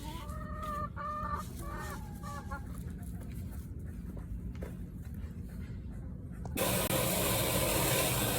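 Close chickens cluck through the first seconds of a morning feeding, then a loud broadband hiss or spray takes over for the final two seconds; no clear rooster crow stands out.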